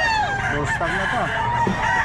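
A young gold stag rooster crows twice in close succession, loud and near, with a few clucks and faint background chatter on a Bulacan farm.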